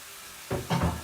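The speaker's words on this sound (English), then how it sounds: "See how that's sizzling in there?" Quiet room tone, then a burst of hissing sizzle from a hot pan, swelling twice over about half a second each, close and fairly loud.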